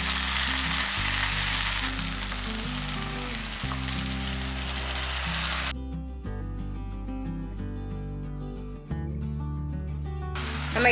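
A ground paste of cashew and cauliflower hits a hot pan and fries with a steady, loud sizzle while music plays underneath.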